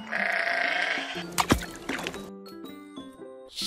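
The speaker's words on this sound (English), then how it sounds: "Sheep." A toy sheep lets out one clear, wavering bleat at the start, followed by a few soft clicks and rustles.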